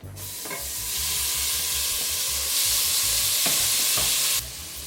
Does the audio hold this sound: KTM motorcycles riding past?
no